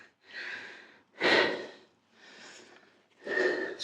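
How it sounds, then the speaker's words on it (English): Heavy, labored breathing from exertion while building a 1992 Mt Shasta Arrowhead bike, four close, loud breaths alternating in and out in a slow, steady rhythm, no speech. "Heavy breathing."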